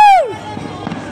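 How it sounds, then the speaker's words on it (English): New Year fireworks burst at Miami Beach, heard as a few scattered pops and booms after a person's loud excited whoop, with crowd noise in the background. "Another fireworks!"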